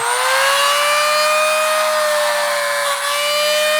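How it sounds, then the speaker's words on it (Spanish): A drill bores a hole through a huirulo seed for handicraft, giving a loud, close, continuous whine whose pitch wavers slowly and dips briefly near the end, with no talking. "En este momento vamos a huequear la semilla de huirulo."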